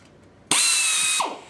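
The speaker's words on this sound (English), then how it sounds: "And just like that, we've got another one drilled." A power drill bores through a center rib for a Bearhawk aircraft, giving one loud, close, high-pitched whine that lasts under a second and then winds down, with quiet shop background before and after.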